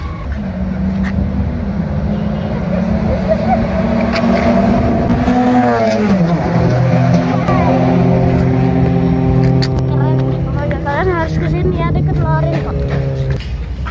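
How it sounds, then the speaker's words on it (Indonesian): Race cars lapping the Sentul circuit in Indonesia, loud engines whining and shifting pitch as they accelerate and pass, with a voice talking over the steady roar. "Mobil-mobil pada di racingin dulu."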